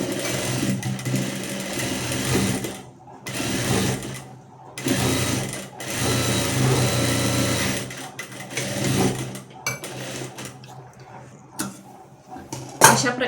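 A sewing machine double-stitches blouse cup pieces. It runs in loud, close bursts of rapid whirring, stopping several times for short pauses, with a few small clicks near the end.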